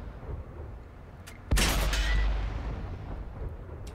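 A single loud, close tank gun blast in the video game World of Tanks, fired from a Comet medium tank. It booms out abruptly after a quiet stretch of engine rumble and leaves a long, low, rolling tail.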